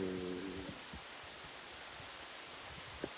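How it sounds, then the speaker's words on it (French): Rain falling steadily on a walker and companion outdoors on the Québec Compostelle pilgrimage route, a soft even hiss with a brief low tone at the start and a few faint drips. "il nous pleut dessus"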